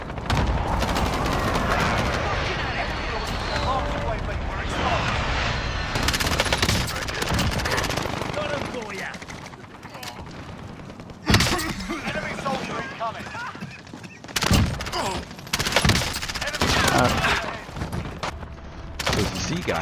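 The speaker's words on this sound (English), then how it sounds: "the MP7, regardless of variant, just decimates all on the Warzone" Dense, rapid MP7 submachine gun bursts fill a Warzone video game match, with sustained automatic fire and explosive cracks, some gaps and renewed volleys, under constant action noise and voices.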